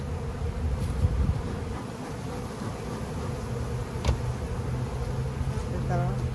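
A steady buzz of many honey bees at a hive hums close by, continuous throughout, with a few louder passes of individual bees.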